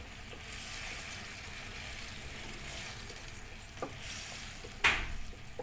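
Squid adobo with oyster sauce bubbles and sizzles in a pan, a faint steady frying hiss with occasional soft pops and a brief louder clink near the end.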